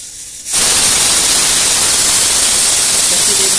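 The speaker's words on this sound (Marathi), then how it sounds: "तीन शिट्ट्या मोजायच्या बरं का" Pressure cooker whistle from a pot of chicken dum biryani bursts in after a brief quieter moment, then a loud, sustained steam hiss continues steadily to the end.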